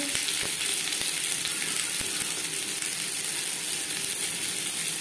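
Boiled potatoes fry in mustard oil with a loud, steady sizzle throughout, punctuated by a few sharp spatters or utensil taps.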